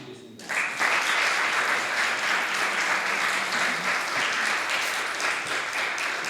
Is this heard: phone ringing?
no